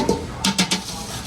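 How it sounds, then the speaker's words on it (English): Egg yolks being whisked for béarnaise sauce in a pan, giving a few quick, close metallic scrapes and clinks in short bursts against a quiet background. "I'm just kind of mixing a little bit in there"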